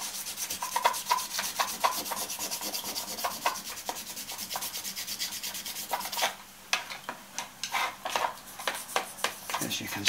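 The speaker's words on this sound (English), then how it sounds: "giving it a scrub with a piece of Scotch-Brite" A Scotch-Brite pad scrubs a greasy metal Italian-style lathe toolholder in quick, rhythmic rasping strokes, close and fairly loud, with a short pause before faster, more separate strokes.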